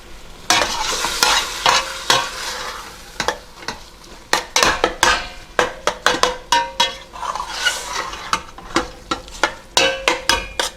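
Seasoned ground beef browns in a pan with a steady sizzle, broken by frequent rhythmic scrapes and clacks of a utensil stirring and breaking it up against the pan, close and loud.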